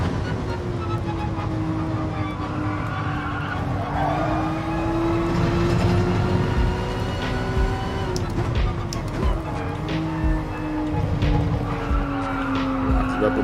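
Tires skid and squeal under brake lock-up on a race car in GT Sport at Brands Hatch, a sustained screech riding over a steady engine drone for the whole stretch, loud and close.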